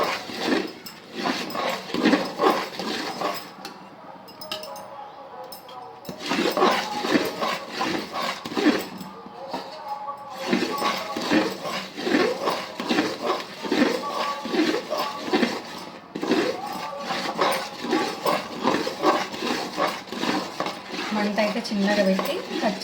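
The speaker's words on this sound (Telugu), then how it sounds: "ఖచ్చితంగా ఇట్లా కలుపుతూనే ఉండాలి" Mysore pak batter stirred constantly in a pan as oil is added, with a dense, steady run of metal spatula scrapes and clinks against the pan, close and loud, pausing briefly a few times.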